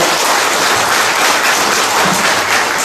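A crowd applauds steadily and loudly at the campaign office opening of an independent National Assembly candidate in Ansan, a dense, continuous wash of clapping with no pauses.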